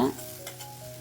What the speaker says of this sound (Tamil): அதுலேயும் சேர்த்து நல்லா வதக்குறேங்க